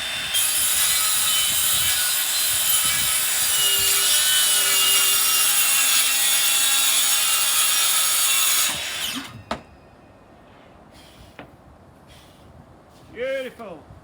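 Power saw cuts freehand through a kitchen worktop along a scribed line as one loud, steady high whine for about nine seconds, then stops. A voice speaks briefly in the quieter room afterward.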